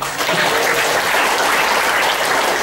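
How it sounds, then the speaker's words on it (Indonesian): An audience at an entrepreneurship talk show claps in a dense, steady burst of applause, loud and close, filling the whole moment without a pause and with no speech over it. "aplaus buat kita semua dong"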